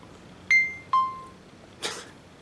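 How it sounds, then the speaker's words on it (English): A phone gives two sharp, loud text-message notification beeps in quick succession, then a brief noisy rustle, in a quiet setting during work on an older MTD push mower. "Text message."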